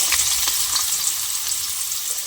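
Potatoes frying in a pan on a home stove, with a continuous bright sizzle and crackle and a few soft stirring clicks, close and moderately loud, no voices.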